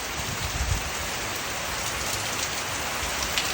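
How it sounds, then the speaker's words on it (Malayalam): Steady rain falls outdoors in Kerala, a dense, even hiss of drops on surfaces filling the whole stretch with no voices, close and continuous. "പക്ഷെ ആ സൈഡിൽ നല്ല മഴയായിരുന്നല്ലോ."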